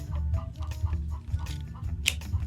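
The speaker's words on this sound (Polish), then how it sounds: "Jak słychać kury skóry też nie mogło się doczekać wymiany wycieraczek." Hens clucking nearby in a yard beside a Mitsubishi Colt during a windshield wiper replacement, a steady low murmur of soft clucks with one sharper squawk near the end.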